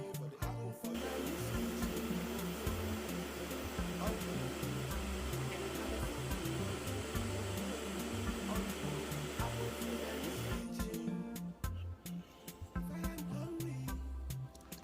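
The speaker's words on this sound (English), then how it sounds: "then I blend." A blender runs loudly and steadily for about ten seconds, blending mango and habanero hot pepper sauce in a dense whirring roar, then cuts off, leaving quieter clattering afterward.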